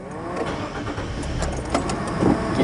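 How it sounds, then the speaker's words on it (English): Car engine starting after a wash in an Istobal M'Nex 22 carwash at a Mobil station in Paraparaumu, a mid-pitched crank and catch rising into a steady idle, close and loud, with a few clicks. "Get that engine started and we are good to go."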